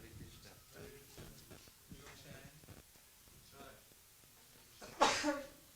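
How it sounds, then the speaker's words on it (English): A single sharp sneeze bursts out near the end, following quiet murmured talk. "You know why you get blessings when you sneeze?"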